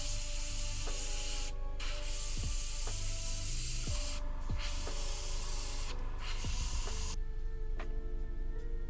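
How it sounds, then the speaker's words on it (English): An airbrush sprays paint onto a Warhammer 40k miniature with a steady, close hiss that stops and restarts in short breaks, over a faint background hum. "this is pretty much just a airbrush"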